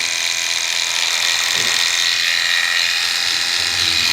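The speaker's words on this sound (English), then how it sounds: "We got the trimmer hair portion, and let's give this a shot here." Electric facial shaver's trimmer attachment cutting through beard hair, a loud continuous close-up buzzing whine with slight shifts in pitch as it moves across the face.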